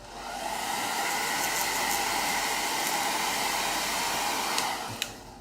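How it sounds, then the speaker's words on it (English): A handheld blow dryer runs steadily for several seconds, a loud continuous whoosh drying fresh paint on a round door hanger, then cuts off with a brief click. "And we can shoot that with a blow dryer if we wanted to."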